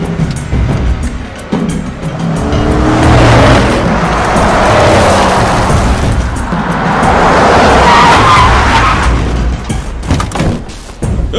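Tires screech loudly as a car skids under hard braking in a movie scene, a sustained squeal swelling over several seconds before fading, with engine rumble beneath and brief voices shouting near the end.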